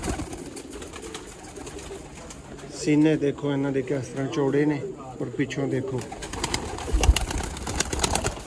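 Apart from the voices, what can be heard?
pigeons cooing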